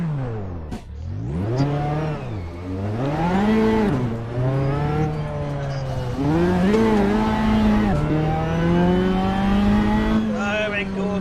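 A Hyundai i30 BTCC touring car engine racing in Assetto Corsa, revving hard through repeated upshifts and downshifts, its pitch rising and falling in sweeping climbs, loud and continuous throughout.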